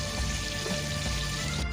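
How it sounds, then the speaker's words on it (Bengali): Marinated cauliflower slides into hot oil in a kadai, over a tempering of bay leaf, cloves and cardamom, for a Bengali cauliflower roast. A steady, close sizzle and crackle carries on without a break. "কড়াতে গরম তেল দিয়ে তেজপাতা লবঙ্গ এলাচি দিয়ে একটু ফোড়ন লাগিয়ে নিয়ে তার উপর দিয়ে ম্যারিনেট করা ফুলকপিগুলোকে আস্তে আস্তে তেলের মধ্যে ছেড়ে দেওয়া"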